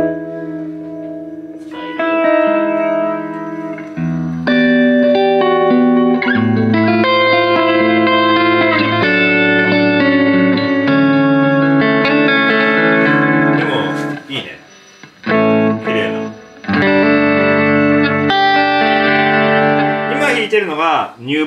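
Electric guitar played through a compact tape echo delay pedal with reverb, melodic notes and chords trailing into repeating echoes and washy tails, loud and close, with short pauses and a bit of string noise.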